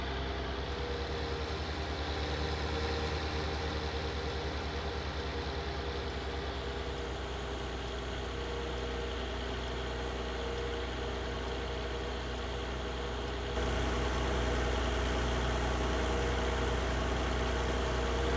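A wide tractor driving in Farming Simulator 19, its steady engine drone holding throughout, then turning louder and deeper partway through as the load increases, with no talk.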